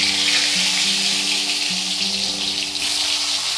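Pointed gourds (potol) fry in hot oil with a loud, continuous sizzle and crackle close by, steady throughout with no talking.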